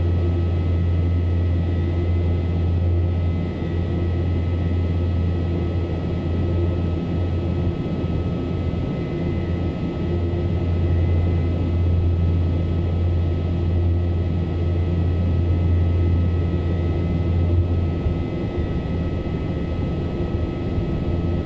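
A propeller aircraft engine at ground idle in Microsoft Flight Simulator 2024, a steady low drone with a constant tonal hum running unbroken and evenly loud throughout, with no voices.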